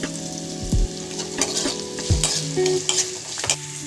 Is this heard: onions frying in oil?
yes